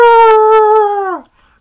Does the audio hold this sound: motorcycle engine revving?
no